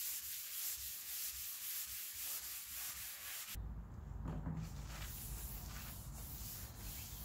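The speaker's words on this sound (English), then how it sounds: "Step 2, scuffing or sanding and cleaning again." Sanding on laminate furniture, scuffing the surface before painting: steady rough rubbing strokes, close and continuous, shifting to a heavier, lower scraping texture partway through, with no talk.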